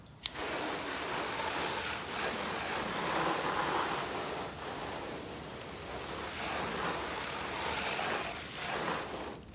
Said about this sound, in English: And now you can use this as a sprayer.